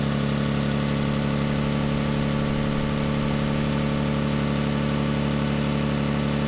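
A car engine idles steadily during an alternator test at a roadside repair in the Mountain West, a constant close, even drone with a low rumble and no change throughout.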